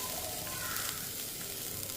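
Onion, carrot and beetroot sautéing lightly in a pan for a soup, giving a steady close sizzle with faint stirring, no talk.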